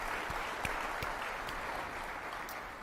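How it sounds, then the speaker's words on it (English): Conference audience applause at the Bitcoin 2023 conference, a soft, distant, steady wash of clapping with a few sharper individual claps popping out, no talk over it. "Let's let them give you some applause."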